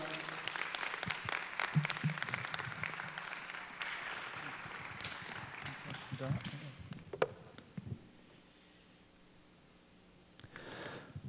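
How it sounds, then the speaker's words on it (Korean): A seminar audience claps to welcome a guest lecturer, with a dense patter of applause that gradually thins out and fades near the end. "우리 박수 드리겠습니다."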